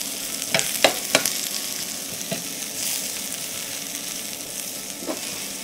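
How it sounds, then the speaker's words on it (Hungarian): Dumpling mixture fries with onion in a pan, a steady close sizzle with a few sharp scraping knocks of stirring near the start. "Akkor pirítjuk egészet."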